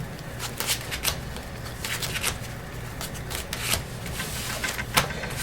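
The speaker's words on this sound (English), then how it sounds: "let me shuffle a little bit good because I put them all in order for the deck profile" A Yu-Gi-Oh card deck being shuffled by hand, a steady run of crisp riffling and flicking bursts close up, repeating several times in quick succession with no talk.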